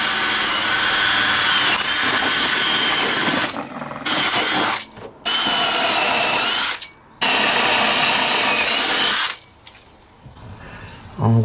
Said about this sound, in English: I've got it marked out exactly where I can safely drill.